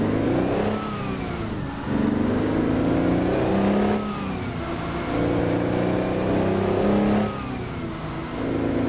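Heavy-haul truck engine in American Truck Simulator, a Peterbilt 389 pulling a 70-ton load, revving loudly and steadily up through the gears in repeated surges of acceleration with brief dips at each shift, close and alone.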